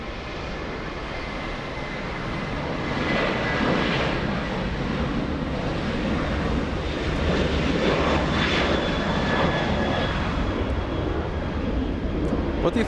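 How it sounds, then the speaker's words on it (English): Qantas Airbus A380 "Spirit of Australia" pushing back at Los Angeles International, a steady broad engine rumble and whine that builds slightly and stays even, heard from some distance. "We have a Qantas A380"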